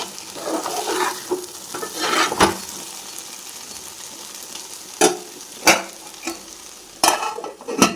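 Cooked curry with a few added shallots gets stirred in a sizzling pan, with soft scraping strokes and several sharp clanks of the spoon against the metal.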